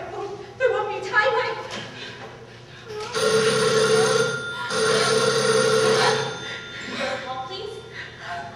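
A telephone rings in a stage performance of a suspense play. The bright ringing comes in two sustained bursts over a tense, quiet room.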